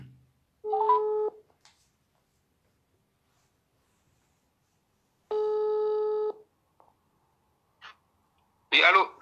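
A telephone call placed during a live broadcast debate: two separate electronic ringing tones with silence between them, then a short burst of voice at the very end.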